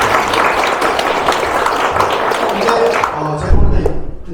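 An audience at an association's presidential inauguration ceremony gives sustained, loud applause that fades out at the end, with a voice speaking over the clapping.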